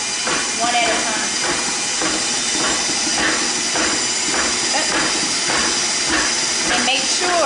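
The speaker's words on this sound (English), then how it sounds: "keep my mixer on while I'm cooking" An electric mixer runs continuously while eggs are beaten into a cream cheese pound cake batter, giving a steady whirring hiss with a faint regular pulsing throughout.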